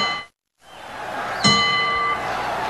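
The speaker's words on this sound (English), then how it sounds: "All right, the bell for round 7, scheduled for 12." Boxing bell at a heavyweight professional fight, a single bright ring struck once that rings out and decays over crowd noise, after a brief gap of silence.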